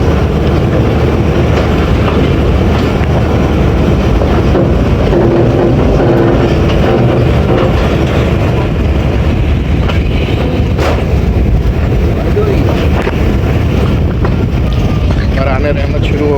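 Passenger train running on Pakistan's ML-2 line after departing Kundian Junction in the rain, with a steady loud rumble of the carriages and wind rushing past throughout.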